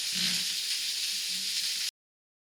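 Steak searing in a hot cast iron pan gives a steady, close, loud sizzling hiss that runs unbroken for about two seconds and then cuts off abruptly.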